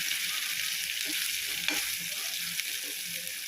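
Ground chutney paste sautéing in a hot pan, a steady hissing sizzle with a few soft stirring taps, close and moderately loud, no voices.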